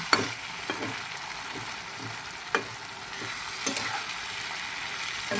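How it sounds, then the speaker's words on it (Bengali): Ginger-cumin paste sizzles in a pan while being stirred, a steady moderate frying hiss punctuated by several sharp utensil scrapes and clicks at irregular intervals, with no speech. "আমি আদা জিরে বাটাটা দিয়ে দিলাম দিয়ে ভালো করে আমি নাড়াচাড়া করে নিচ্ছি"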